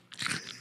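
A single crisp bite into a crunchy peach, heard close and alone as a short crackling crunch.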